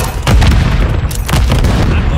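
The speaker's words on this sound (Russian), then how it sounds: "Бросаю Семтекс!" A Semtex grenade goes off in Call of Duty Warzone 3 on the Vondel map, deep booms and a heavy rumble over constant loud battle noise with scattered gunfire, no clear voices.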